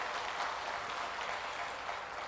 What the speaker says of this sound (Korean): 이렇게 한 자리에 다 모일 수 있는 이 공간을 주신 하나님 앞에 우리 영광의 박수 한번 드리겠습니다.